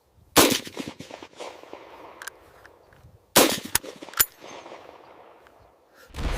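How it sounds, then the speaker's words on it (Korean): Continuous gunfire in a North Korean shelling scene on Baengnyeong Island with K9 Thunder artillery: two dense clusters of sharp, rapid shots crackle with scattered single pops between them, and another burst begins at the close. "연사! 계속 발사!"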